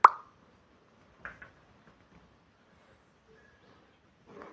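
A crushed paste of chili, garlic and cumin is tipped into a pan of frying onion, landing with one sharp, close plop, followed by a couple of softer knocks and faint low activity in a quiet kitchen.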